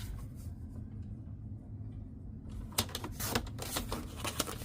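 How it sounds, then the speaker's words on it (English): Cardstock squares being cut for a greeting card mat, heard as a run of sharp, close clicks and snips in quick succession that follow a quieter stretch of low background rumble. "So I'm just going to cut 2 squares here really quick."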